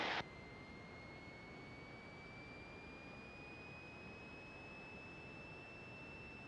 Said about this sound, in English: Throttle up to 1800 RPM